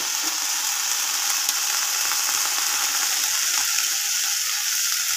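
Pond-washed greens and small pieces of shrimp simmer lightly in salted water in a wok, giving a steady, even bubbling hiss that runs unbroken throughout, close by, with no talking.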